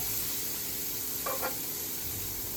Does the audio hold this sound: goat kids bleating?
no